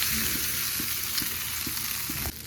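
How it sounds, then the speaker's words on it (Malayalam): Crumbled puttu tossed into a hot frying pan with curry leaves sizzles steadily and loudly, with soft scraping stir strokes recurring at a regular pace throughout and no voices. "പുട്ട് ഞാൻ ഇതേപോലെ കൈകൊണ്ട് പൊടിച്ച് വെച്ചിരുന്നു കേട്ടോ അത് ഇതിലേക്ക് ഇട്ട് കൊടുക്കാം"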